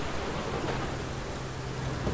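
Rain in the video game Aliens Dark Descent, a dense, even hiss of falling rain with a faint low rumble underneath, steady and unbroken with no speech.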